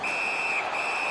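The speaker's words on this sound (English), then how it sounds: "Puck covered, whistle blown." Referee's whistle in an ice hockey video game on PS4, a single sustained shrill blast with a brief dip midway, clear over faint arena background.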